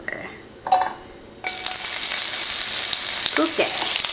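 After a few quiet clinks, cucumber hits hot olive and sesame oil and a loud, steady sizzle starts up and holds, with light stirring scrapes over it.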